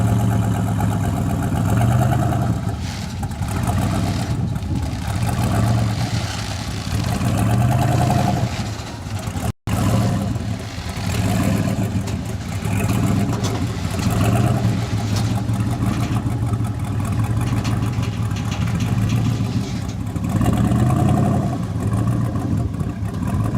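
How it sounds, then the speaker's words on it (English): Musjunk race car engine at a track on a hot day, running steadily at close range with a loud, rough idle that swells in pulsing surges, briefly cutting out midway before resuming. "This was the very first drive on the car to test the brakes and the steering and stuff"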